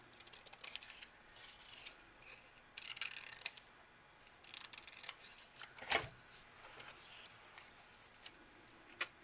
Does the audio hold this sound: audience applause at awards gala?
no